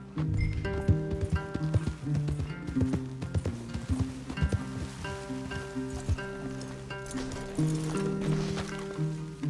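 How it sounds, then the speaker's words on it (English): Horses in the video game Red Dead Redemption 2 clip-clop along at a steady walking gait, hooves knocking close and clear over ambient game music. "Leave the horses in the trees there."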